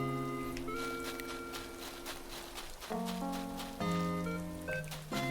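Steady rain patter in the video game Animal Crossing under a layered, sustained musical backdrop, with tones shifting in chords throughout.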